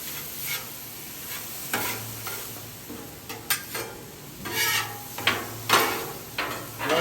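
Ground beef sizzles on a Blackstone griddle while a spatula stirs it, giving repeated scraping and clacking strokes over a steady frying hiss, close and fairly loud.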